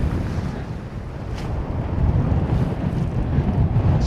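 Strong wind buffeting the microphone on a rocky fell summit, a loud, rough, continuous roar that gusts harder toward the end, with no voices.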